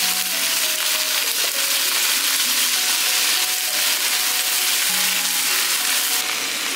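Spring onions hit hot oil already holding garlic slices and small chili peppers in a home wok, giving a loud, steady sizzling fry that continues throughout with faint stirring.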